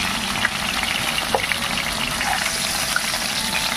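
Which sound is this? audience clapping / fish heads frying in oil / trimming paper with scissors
fish heads frying in oil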